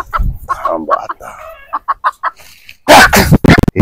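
A chicken clucks in a short run of sharp, close clucks after a man's speech, then a loud burst of squawking flutter near the end.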